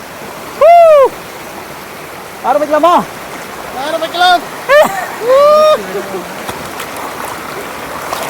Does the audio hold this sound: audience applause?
no